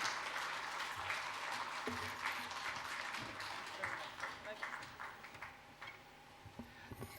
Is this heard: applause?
yes